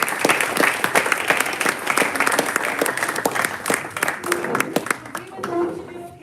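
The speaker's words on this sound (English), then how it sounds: "Let's give him a round of applause." Seminar audience giving a round of applause, many hands clapping loudly and irregularly nearby, thinning toward the end as a few voices murmur.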